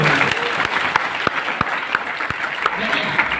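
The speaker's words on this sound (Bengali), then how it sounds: "হাততালি দেন না, বুঝেন না?" An audience at a meeting in a party centre applauds, a sustained patter of many hands clapping with a few sharper individual claps standing out, while voices murmur faintly underneath.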